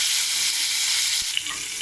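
Food sizzles steadily in a frying pan, a close, continuous hiss with one faint clink near the end and no voices.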